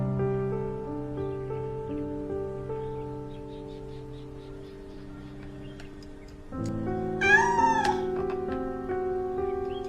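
A cat meows in a long drawn-out wail over a sustained tonal background, then gives a sharper rising cry near the end. The cat is close and fairly loud, and nobody talks.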